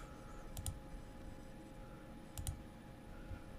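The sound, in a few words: mouse click on a software process button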